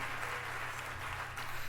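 Audience clapping during a livestreamed talk, a faint, continuous patter of applause heard from a distance, low in level and without clear individual claps.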